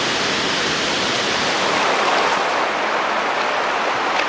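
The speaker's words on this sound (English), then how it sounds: "that waterfall is definitely worth a visit, definitely worth a swim" Steady, full roar of a waterfall on Koh Kood Island, Thailand, broadband rushing water filling the scene without a break, close and loud.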